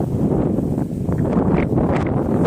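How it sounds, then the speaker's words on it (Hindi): Loud, steady wind roars and buffets the microphone as a storm with rain arrives, a dense rumbling rush with faint rustling on top. "अभी तेज़ हवा आ चुका है और बारिश भी आ चुका है।"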